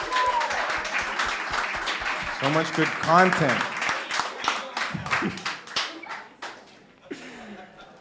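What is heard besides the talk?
festival audience applause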